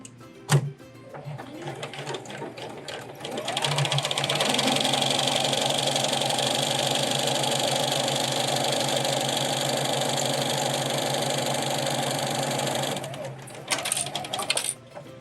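A sewing machine runs steadily for about nine seconds, stitching a half-inch seam on a grocery tote bag. A few clicks and handling noises come before and after the continuous motor hum.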